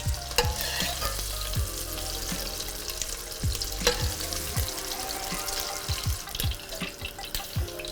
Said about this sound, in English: I'm gonna brown this for a few more minutes and then I'm gonna take it out.